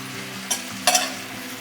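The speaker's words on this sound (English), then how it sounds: "I'm going to return the other batch back into the pan" Shaking beef sizzling in a pan with onions, a steady close frying hiss broken by two quick stirring scrapes within under two seconds, no talking.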